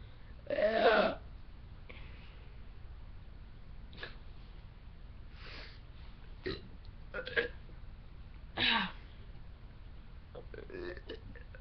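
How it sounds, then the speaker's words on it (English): A person burping several times between faint breaths and mouth sounds, one loud close burp followed by smaller scattered ones, in a quiet indoor setting with no talk. "It's making me burp, but not hiccup."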